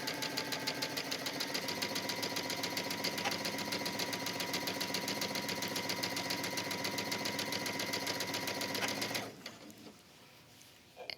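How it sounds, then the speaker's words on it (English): A sewing machine runs fast and steady, stitching a rolled hem along the edge of a wrap dress in contrasting thread, with a dense mechanical whir that stops abruptly near the end. "I'm just gonna stitch, and where I'm stitching, it's just on the edge right here"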